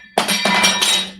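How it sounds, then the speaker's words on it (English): A glass bong clinks and thunks against another glass bong in a few quick knocks, loud and close, with a bright ringing tone that lingers briefly between hits. "I thought you knocked over a bong with another bong"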